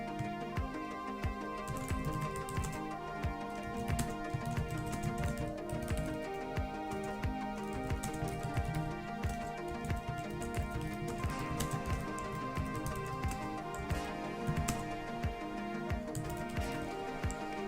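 Steady rapid typing on a computer keyboard, dense continuous key clatter at close range with no pauses and no talk.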